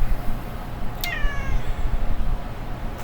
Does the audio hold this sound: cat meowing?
yes